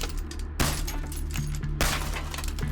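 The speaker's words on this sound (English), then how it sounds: "Multiple windows, glasses shatter" Windows and drinking glasses shatter as a sound effect: two sharp crashing bursts about a second apart, set over a low, steady droning ambience.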